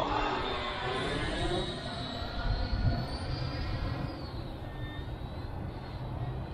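An E-flite Viper 90mm ducted-fan RC jet comes in to land, giving off a broad whooshing roar that swells and then gradually eases as it passes.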